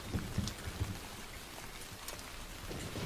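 Steady rain falling on surfaces during a storm, with a few heavier patters early on and a low rumble underneath, continuous and moderately loud, with no voices.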